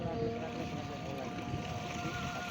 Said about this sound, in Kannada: ನೋಡಿ ನೀರು ಎಷ್ಟು ಬರ್ತಾಯಿದೆ